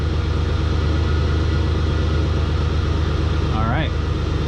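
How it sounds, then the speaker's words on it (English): A 2010 Dodge Grand Caravan engine idles smoothly with a hole somewhere in the exhaust, giving a loud, steady low rumble and drone throughout, with a brief squeaky sweep near the end. "still loud exhaust noise, but that's just because there's a hole in the exhaust somewhere"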